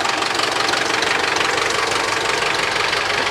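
Massey Ferguson tractor engine idling with a steady, dense knocking rumble, close and loud, with no talking.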